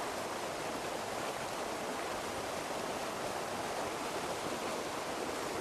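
An autumn waterfall pours in a dense, unbroken rush of white noise, loud and steady throughout with no voices.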